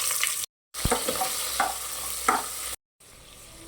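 Tomato bath base frying in hot oil with mustard seeds, curry leaves, onion, chillies and tomato: a steady sizzle with occasional stirring scrapes and clinks, close and fairly loud, broken by two short silent gaps.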